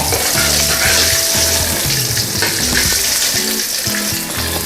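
Fried tofu sizzles loudly in a wok, a dense continuous crackle and hiss of hot oil with scraping and stirring clatter mixed in, close and without any talk.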